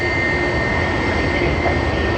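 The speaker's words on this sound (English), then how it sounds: "That is EK412 that has just arrived." An airliner, flight EK412, arriving at Sydney Airport makes a steady, loud jet-engine roar with a faint high whine running through it, heard alone without talk.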